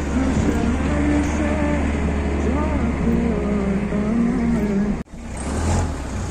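A jeep drives through water on the rough Fairy Meadows route, its engine a constant rumble mixed with splashing water and broadband noise; a sharp break near the five-second mark is followed by continued roar, and a voice is faintly present.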